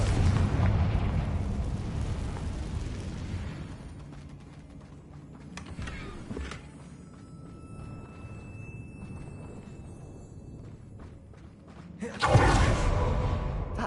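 A fiery Confringo spell explosion from the game Hogwarts Legacy booms loudly at the start and fades, followed by smaller impacts and a second loud blast near the end, with a player speaking between.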